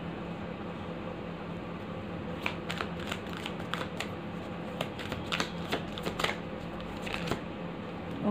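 Tarot cards being shuffled, a quiet bed of soft papery hiss broken by a run of crisp riffling snaps and flicks from about the two-second mark onward, close and fairly faint with no talking.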